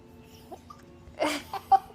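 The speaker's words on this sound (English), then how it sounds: "she has the hiccups" A girl hiccups several times in a quiet room, short abrupt vocal catches spaced irregularly, close and fairly soft, with faint background noise.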